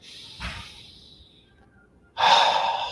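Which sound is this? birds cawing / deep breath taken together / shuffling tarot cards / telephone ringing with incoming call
deep breath taken together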